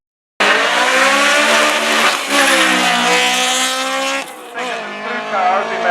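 A Subaru WRX race car engine screams at high revs at a street sprint, climbing through the gears with a brief dip between shifts, loud and close.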